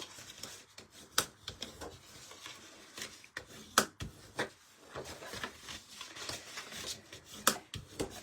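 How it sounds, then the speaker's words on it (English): Paper score lines on a craft project being burnished by hand, heard as soft rubbing and scraping strokes with scattered sharp clicks and taps, close and fairly quiet, with no talk. "So I'm going to take these and just burnish the score lines."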